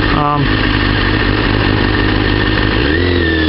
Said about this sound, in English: And there's traffic.